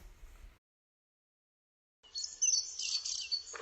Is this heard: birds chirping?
yes